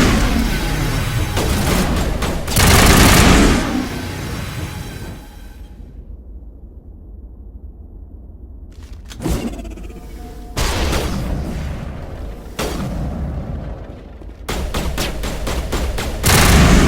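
Gunfire in a sci-fi firefight with Commander Shepard's squad: bursts of loud rapid shots and heavy booms come in clustered volleys, then break off into a quiet pause. The shooting resumes in sharp, dense bursts.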